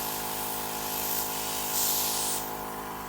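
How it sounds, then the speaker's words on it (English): Dinair airbrush spraying makeup onto a tissue, a continuous soft hiss over a steady compressor hum, growing briefly louder in the middle. "Spray that tissue."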